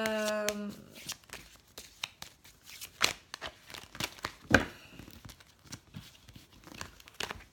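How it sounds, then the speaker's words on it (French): Oracle cards are shuffled by hand, giving irregular papery riffles, slaps and crinkly flicks at close range, quiet overall with a brief tone at the start. "Donc je mélange toutes ces cartes."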